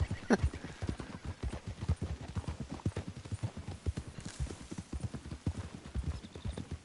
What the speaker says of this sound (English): Let's leave the horses off the road to the right here.